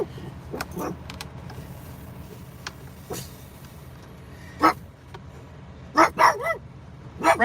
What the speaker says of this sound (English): You don't need to bark at everything.